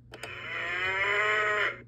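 Synthesized cow moo from an electronic handheld game, a single sustained buzzy low moo lasting over a second after two short clicks, clear and close, with no talk.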